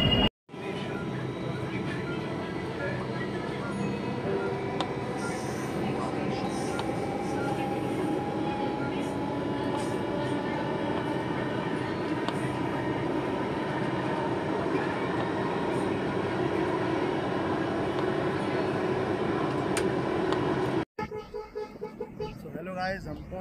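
A metro train at Bahadurgarh metro station rumbles steadily for a long stretch, its broad, continuous roar filling the space before cutting out near the end into quieter noise.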